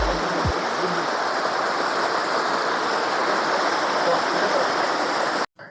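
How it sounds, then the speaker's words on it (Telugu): Waterfall on a rocky hill at Rachakonda, a steady broadband roar of rushing water heard up close, constant and loud throughout, ending in a brief dropout near the end. "ఇదనమాట వాటర్ ఫాల్స్."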